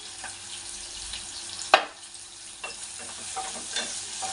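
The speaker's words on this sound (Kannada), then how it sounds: "ಇದು ಚೆನ್ನಾಗಿ ಫ್ರೈ ಆಗಿದೆ. ಈಗ ಇದಕ್ಕೆ ನಾನು ಸ್ವಲ್ಪ ಅರಿಶಿನ ಹಾಕೋತಾ ಇದ್ದೀನಿ." Spices with turmeric sizzle and crackle in a hot pan for jeera rice, with a sharp scrape of stirring partway through and softer stirring scrapes after it.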